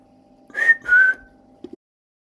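Two short whistled notes in quick succession, clear and close, the second slightly lower and longer, then a brief tap.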